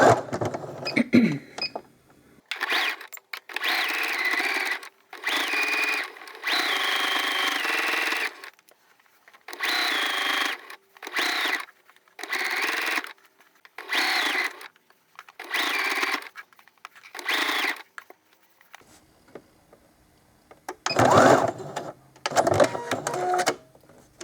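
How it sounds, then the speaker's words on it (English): Sewing machine stitching a quarter-inch seam on a craft snowman made from dollar-store supplies, a close mechanical whirring that runs in about a dozen short bursts separated by brief pauses, with no talking. "So let's go to the sewing machine."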